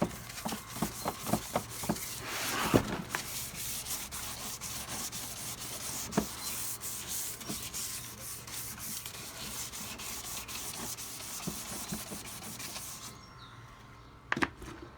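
Wet and dry sandpaper rubs across a car's rear bumper in a steady rasping scrub, close and fairly quiet, with a burst of quicker strokes early on and a few louder scrapes and knocks.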